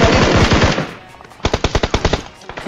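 Rapid bursts of automatic gunfire in a mobile battle royale game, a dense loud volley at first, then a clear rhythmic string of separate shots after a short pause.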